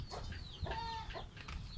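A chicken clucks a few times at a distance, faint and brief over a low background hum.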